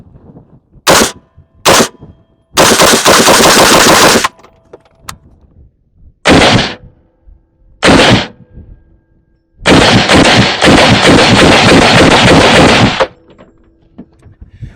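Close, loud shots from a PSA PA-15 20-inch M16A4 clone rifle outdoors: a couple of sharp single cracks, then sustained rapid bursts of fire separated by pauses.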